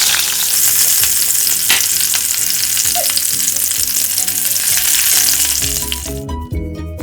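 Green chillies and curry leaves fry in hot oil for Kerala-style beef dry fry, giving a loud, dense, steady sizzle with scattered crackles and pops throughout, easing slightly near the end with no voices.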